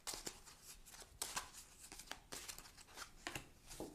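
Tarot cards are shuffled and drawn in a quiet room, a series of soft, close papery flicks and slides in irregular bursts.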